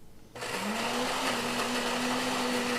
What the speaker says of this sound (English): Start right now and grind our beans.